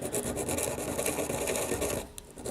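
Steel V-gouge carving tool rubbed on a sharpening stone, flipped back and forth between its flat sides, giving steady close scraping strokes that stop near the end.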